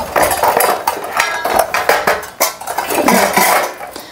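Metal spoons clink and clatter against each other during a baby's matching play with cutlery, a dense run of bright, close metallic taps and rattles that continues for several seconds with no talking.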